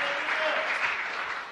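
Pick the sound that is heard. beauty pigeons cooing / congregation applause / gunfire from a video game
congregation applause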